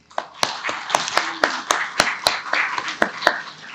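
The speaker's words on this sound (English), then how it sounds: "let's have a round of applause for Dante Clinkang II." A forum audience claps for a guest taking the stage, a sparse round of separate sharp hand claps spread through the room, moderately loud with uneven rhythm and no talking.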